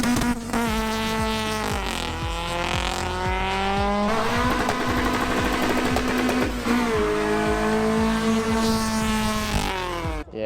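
A loud, high-revving Honda-engined Mark 1 Ford Fiesta racing at a retro car show, climbing and dropping through the gears, with brief tyre squeal and a continuous mechanical roar.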